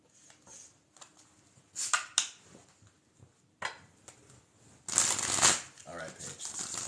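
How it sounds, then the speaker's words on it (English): Tarot cards shuffled in bursts of riffling and soft slaps, close and crisp, alternating with quieter pauses while a person talks between shuffles. "Paige, we're going to keep shuffling."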